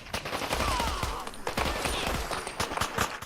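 A fast-firing pistol shoots at super mutants in Fallout 4 VR, a rapid string of loud, close, sharp shots packed tightly together over a few seconds.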